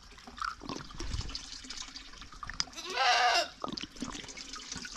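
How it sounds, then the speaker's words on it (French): Spring water pours into bottles at a small rural farm spring, a short steady gush of filling water in the middle of the clip over soft outdoor ambience and scattered faint knocks. "On remplit d'eau."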